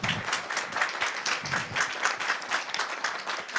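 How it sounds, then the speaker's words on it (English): Symposium audience applauding its speakers at an in-person gathering: dense, steady clapping from many hands, fairly loud and sustained across the whole stretch with no clear voices on top. "Just another round of applause to everybody."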